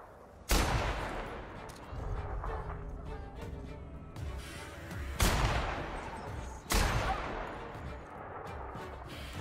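Gunfire in The Outer Worlds, three sharp, loud blasts at wide intervals, each with a ringing decay, over a steady low rumble of game ambience.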